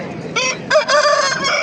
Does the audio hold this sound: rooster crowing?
yes